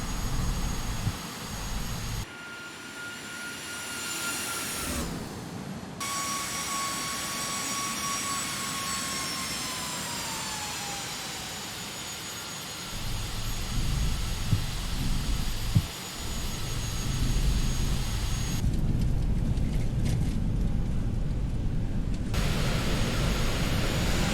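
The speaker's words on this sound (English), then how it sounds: "And I got the reversers working." A jet airliner in the X-Plane flight simulator rolls out after touchdown, a loud steady turbine roar with a falling whine as thrust reversers engage and the engines spool, continuing without talk.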